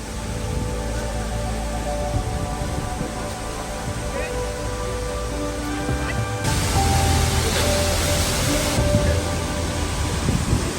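Seljalandsfoss waterfall in South Iceland roars as a steady, broad rush of falling water, loud and close, swelling for a few seconds.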